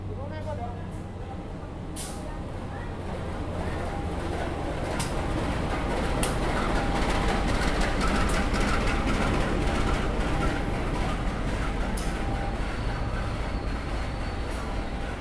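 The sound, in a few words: local Penataran train passing at Malang Kota Lama station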